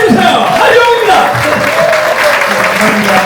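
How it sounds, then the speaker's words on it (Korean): A conference audience greets a business presenter with loud, sustained applause and cheering, a thick wash of clapping with voices and whoops mixed in close by. "여러분 레몬이지 연구소의 하재홍 대표님을 큰 박수와 함성으로 맞이해주세요"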